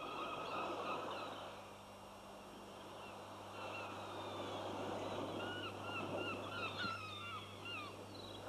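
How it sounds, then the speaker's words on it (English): A gull caught in a trawler's fishing net gives repeated high squawks and calls through a steady hum of the boat's engine, the cries growing busier toward the end. "This gull hasn't hitched a ride on a trawler."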